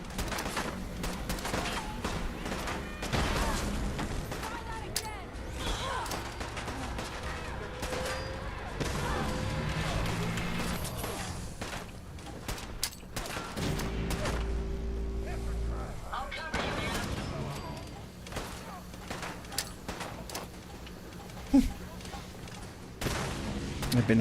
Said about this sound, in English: I need to let some plasma grenades do the work for me.